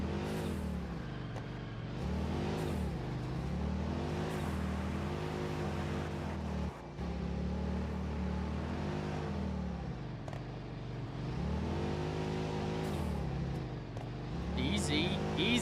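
A dune buggy engine revs up and down near the listener, swelling and easing in repeated surges as the buggy pops wheelies, with people talking over it throughout.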